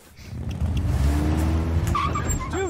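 Tires screech in a long skid as a car brakes hard in the 2012 film 21 Jump Street, a loud sustained squeal over engine rumble, ending with a short higher chirp.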